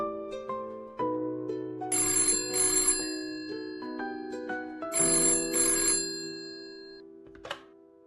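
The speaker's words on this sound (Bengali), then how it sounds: "তখনই ফোনটা বেজে উঠল" A telephone rings with a bright, electronic ringtone, two bursts of ringing separated by a pause, loud and close, with no voices.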